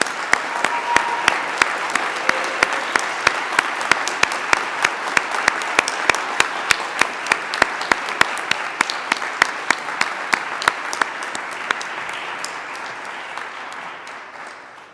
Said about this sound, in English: I hope you'll join me in a round of applause for Emory's professors and staff